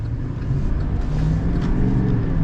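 A 2023 Chevy Silverado 3500 Z71 Sport Edition pickup truck accelerating on the road, with a steady, loud low engine rumble close by throughout.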